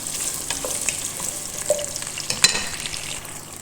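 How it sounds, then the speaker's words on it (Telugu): Sliced onion sizzles steadily in a pan with whole spices for mint rice, a soft continuous frying hiss with a few small stirring knocks, close and alone without talk. "ఉల్లిపాయలు మగ్గనివ్వమండి."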